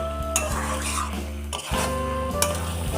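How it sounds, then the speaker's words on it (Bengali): A spoon stirs chickpea paneer masala seasoned with sugar and salt in a pan, giving soft scraping and knocks against the pan over a faint low sizzle, close and without talk. "এবার ভালো করে নেড়ে নেব।"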